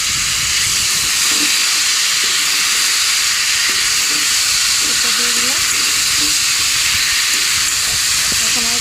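Water hits a hot frying pan and erupts into a loud, continuous steaming hiss that fills the whole stretch, with faint kitchen clatter underneath.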